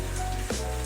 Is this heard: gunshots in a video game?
no